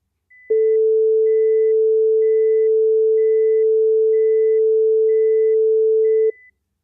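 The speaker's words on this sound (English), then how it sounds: "Lower frequency tones will mask higher frequency tones better than higher frequency tones will mask lower frequency tones." A single steady pure sine tone holds at one pitch for about six seconds, loud and clean, with a faint higher tone pulsing on and off above it, illustrating frequency masking between two tones.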